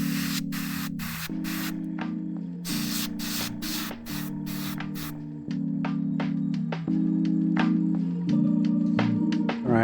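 An airbrush spraying paint onto a miniature gives repeated short hissing bursts, some quick and some held longer, over a steady background of harmonic tones.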